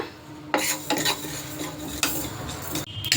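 Spices dry-roast in a pan without oil, crackling with bursts of scraping and clattering as they are stirred against the metal.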